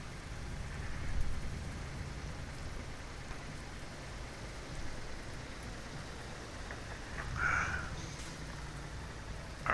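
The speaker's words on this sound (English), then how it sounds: "Rain." Steady rainfall in the video game Euro Truck Simulator 2 hisses evenly throughout, with a couple of brief swells and a faint high chirp near the end; nobody speaks.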